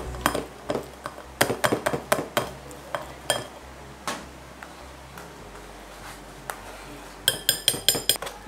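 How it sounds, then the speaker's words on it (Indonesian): A metal spoon scrapes and taps against a strainer while pressing cooked broccoli and catfish porridge through it for baby food, giving sharp, irregular clinks and scrapes up close. "enakan tuh nyaringnya pakai sendok gini ya"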